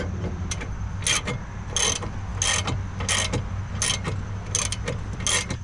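Hand tools ratchet out the shock absorber bolts on a 1985 C4 Corvette, a close, steady series of clicking ratchet strokes repeating in an even rhythm over a low background hum.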